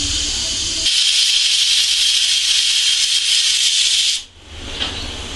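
A pressure cooker whistles while boiling potatoes, a loud continuous steamy hiss that holds steadily for about three seconds before cutting off abruptly, then a brief fainter puff of steam.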